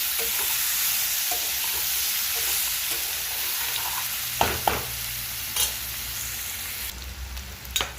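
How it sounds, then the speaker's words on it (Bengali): Chopped onions fry in oil in a pan for a bitter gourd kalia, a steady close sizzle broken by a few sharp scraping stirs of a spatula. "পেঁয়াজটা একটু ভাজা ভাজা হবে"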